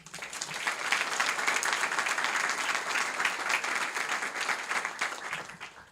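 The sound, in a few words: audience applause for graduating student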